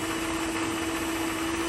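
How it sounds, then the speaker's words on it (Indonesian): A Miyako SM-625 stand mixer runs with a steady, high-pitched motor whine and a constant hum, loud and close, with no voices over it. "kita coba di stand mixernya, bisa kalian dengar juga ya untuk suaranya"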